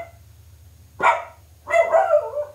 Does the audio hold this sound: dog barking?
yes